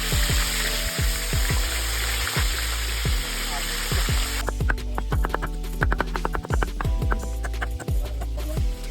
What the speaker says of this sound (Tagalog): Noong 200 degrees Celsius na ay sinimulan na namin magsalang ng mga tilapya